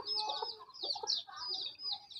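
A pet rooster clucks close by in a quick run of short, throaty calls that rise and fall with brief gaps between them, with no one talking.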